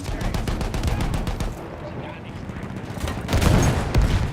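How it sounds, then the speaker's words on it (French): Rapid bursts of machine gun fire rattle loudly and continuously in the video game Battlefield 1, with a brief lull before another heavy volley, amid battle noise. "Ces mitrailleuses empêchent nos gars d'avancer!"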